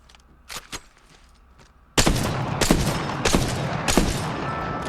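Wingman pistol fire in Apex Legends comes as sharp, punchy single shots, a couple of lighter reports first and then several heavy shots at a steady pace over dense, loud in-game combat noise.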